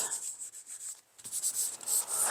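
Repeated rubbing strokes clearing residue off a crafting mat, a close, dry scratchy swishing in quick uneven bursts with a short pause in the middle, with no voices.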